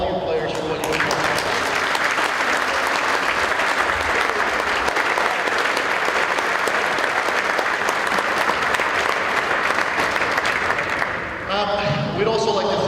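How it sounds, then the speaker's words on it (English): Sustained applause from a crowd at a junior ice hockey gold medal game, loud and steady for about eleven seconds before fading out, with voices emerging at the end. "big round of applause for all you players for what you did."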